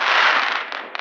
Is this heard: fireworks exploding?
yes